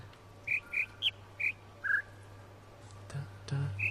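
Bird chirps from a puzzle in The Witness, five short clear whistled notes in a steady rhythm at shifting pitches, then a brief pause before more faint chirps over a low background hum.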